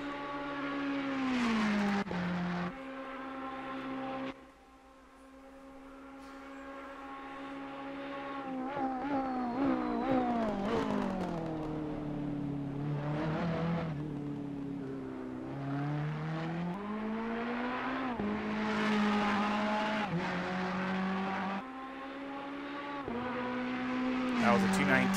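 A Ferrari 488 EVO GT3 race car in Assetto Corsa Competizione howls through a lap, its engine note climbing and dropping with gear changes and braking, loud and constant for the full stretch.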